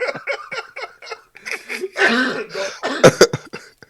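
A few short bursts of coughing mixed with laughter, close and fairly loud, ending in two sharp hacking coughs.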